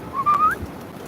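A pet bird gives a single short rising whistled call indoors, clear and fairly close over a quiet background, with no talking.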